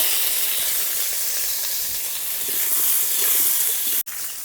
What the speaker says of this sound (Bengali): ওই অল্প তেলে আলুগুলো ভালোভাবে ভেজে নেব